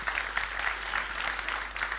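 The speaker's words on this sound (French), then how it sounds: "Oui, on peut l'applaudir évidemment." Audience applause after a talk at an energy conference, a steady patter of many hands at moderate distance, continuous through the whole short stretch with no voices over it.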